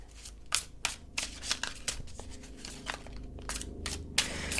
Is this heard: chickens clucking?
no